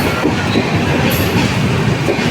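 A crowded train at Kudal railway station rumbles past close by, a loud, steady roll of wheels on track with faint rhythmic clatter and no talking.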